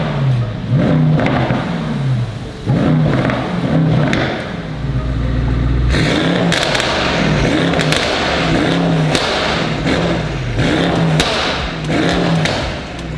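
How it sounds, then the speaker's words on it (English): A Mercedes E63s AMG fitted with downpipes and a stage 2 remap revs repeatedly, its exhaust rising and falling in loud close bursts, then settling into a sustained roar with sharp crackles and pops. "let's put in some before and after comparison videos of the exhaust"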